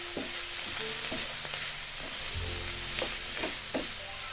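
Chicken and vegetables stir-fry with soy sauce and chili sauce for chicken fried rice, a loud continuous sizzle broken by scrapes and clinks of a utensil tossing the mix in the pan.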